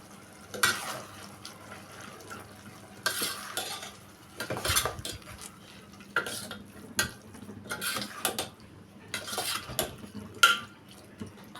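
Spoon stirring masala and chili powder into a drumstick and tomato curry in a pot, giving repeated scraping, clinking bursts of a second or so with short pauses between, fairly close and moderately quiet, no talking.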